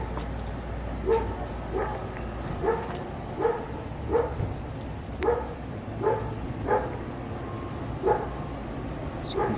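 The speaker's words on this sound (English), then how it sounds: "So we set off the dog." A dog barks repeatedly in a steady rhythm, about ten evenly spaced barks at moderate distance outdoors in a town, over a faint background hum.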